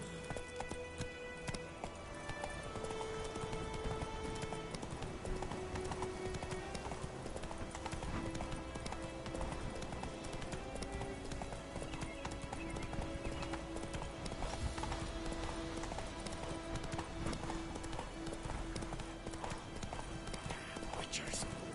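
Horse hooves gallop in steady clip-clop rhythm through The Witcher video game, close and continuous over a background music bed, with a brief neigh and a voice urging the horse on.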